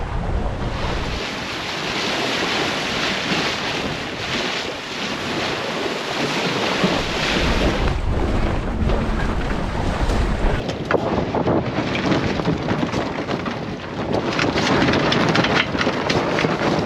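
Strong wind buffets a sailing dinghy at sea, a loud continuous rush of gusts and microphone wind noise with the wash of water and waves around the boat, no voices.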